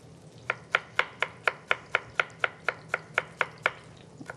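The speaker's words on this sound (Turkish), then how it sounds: "Hemen soğanımızı ufak ufak doğramaya başlıyoruz." Steady, rhythmic knife chops of onions on a cutting board, about sixteen crisp strikes at an even pace, close up, with faint background hum and no talking.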